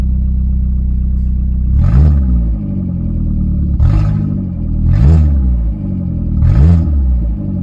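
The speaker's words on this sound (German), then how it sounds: "Auspuff hört man auch sehr gut, dass der Wagen sauber im Takt läuft." A car with nearly 300,000 kilometres on it idles with a steady low exhaust rumble, running evenly, swelling into four brief revs at roughly even intervals, close by.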